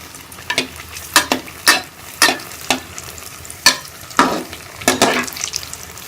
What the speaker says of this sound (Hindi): इसी तरह बाकी भी फ्राई कर लेंगे।